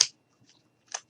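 Two quick scissor snips cutting bits of denim fabric from a gnome's jeans, one at the start and another just under a second later, close and crisp against silence.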